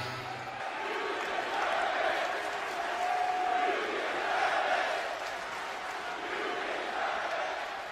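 A large London crowd at a live event roars and cheers continuously, a dense, sustained wall of voices with swells of shouting that never drops away.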